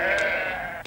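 A sheep being inoculated gives one loud, close, drawn-out bleat that fills the moment, followed by a brief rustle, with no voices.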